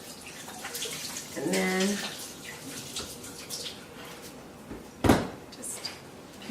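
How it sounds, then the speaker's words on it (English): Tap water runs steadily at a kitchen sink as hands are washed while cinnamon rolls are being made, with a brief clatter near the end and people talking over it. "She's going to wash your hands real quick."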